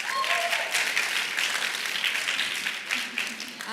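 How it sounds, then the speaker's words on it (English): Wedding guests break into sustained applause at an evening reception, a thick, even wash of clapping from a large room with faint voices beneath. "a round of applause for you because you're working hard tonight."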